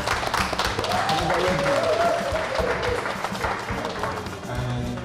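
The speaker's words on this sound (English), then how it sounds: "let's have a round of applause for that" Crowd applause at a London book launch, dense and steady for several seconds, with a voice or tonal sound rising briefly over the clapping near the middle.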